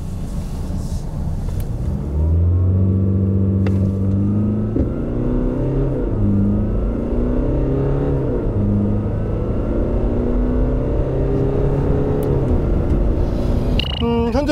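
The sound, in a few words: Jaguar XF 2.0 AWD diesel car accelerating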